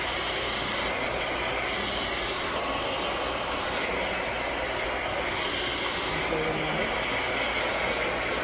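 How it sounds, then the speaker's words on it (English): Hair dryer blowing steadily on a child's sectioned hair, loud continuous airflow roar close by throughout, no words spoken. "section your baby's hair up. And then blow dry."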